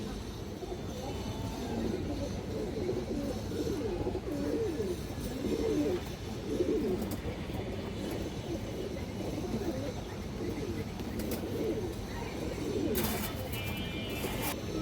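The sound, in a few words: pigeons cooing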